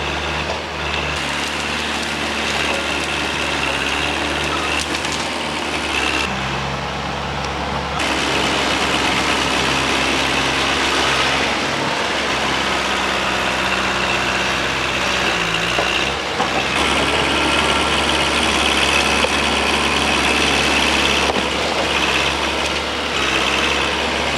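A bulldozer engine runs at a logging site with a continuous heavy rumble, loud and steady, with slight shifts in pitch as the load changes.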